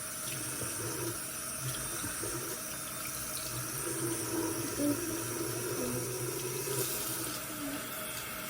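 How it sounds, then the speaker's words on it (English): Water runs steadily from a bathroom tap, warming a washcloth, a soft continuous splashing stream heard close by with no talking. "I'm just warming up my washcloth here"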